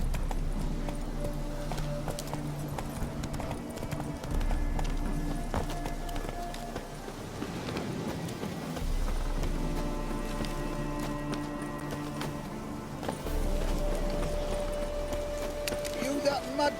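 A horse gallops in The Witcher 3: Wild Hunt, Hearts of Stone, its rhythmic hoofbeats pounding continuously over game music, easing briefly midway before picking up again.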